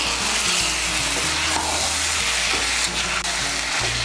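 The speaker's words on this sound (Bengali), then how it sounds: "চিড়ে রাখা কাঁচা লঙ্কা, চিনি আর কাঁচা লঙ্কাটাকে ভালো করে মিশিয়ে নেব" Kochu shak (taro leaves) being stirred in a pan with slit green chilies and sugar, a steady close sizzle and frying hiss with soft scraping of the spoon throughout, no voices.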